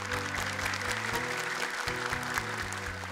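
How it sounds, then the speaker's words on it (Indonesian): A studio audience at a televised children's Quran memorization competition claps in a brief burst of applause, heard moderately under a loud musical bed of sustained, stepping bass notes. "tepuk tangan untuk mereka"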